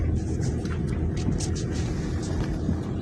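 A car driving along a village street, a steady low engine and road rumble heard from inside, continuous and fairly close with no talking.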